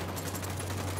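Rapid automatic gunfire rattles in the video game Ghost Recon Wildlands, a short burst of evenly spaced shots that sounds loud and close.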